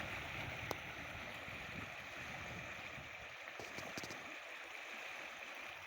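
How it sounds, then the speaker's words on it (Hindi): Kichha river in a village, water level rising fast, flowing with a steady broad rushing wash and gurgle, continuous and fairly close, with a few faint clicks and no talk. "ये है मेरे गांव की नदी, किच्छा नदी इसे कहते हैं, जिसका जल स्तर बहुत ही तीव्रता से बढ़ रहा है"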